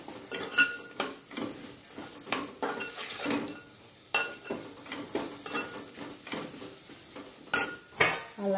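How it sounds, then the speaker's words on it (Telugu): Food is mixed with salt and turmeric in a pan, with steady stirring, scraping and clinking of a utensil on metal over a faint sizzle. The sound is close and continuous, with irregular louder knocks and no voices. "బాగా కలిపేసుకోవాలండి, శుభ్రంగా మొత్తం ఉప్పు పసుపు అంతా పట్టేటట్టు కలిపేసుకోవాలి"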